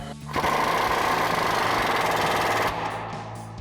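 An impact wrench or ratchet drives a suspension bolt above the spare tire through a socket extension on a 2019 Silverado 1500 lift kit install, a loud steady mechanical rattle running about two seconds before stopping.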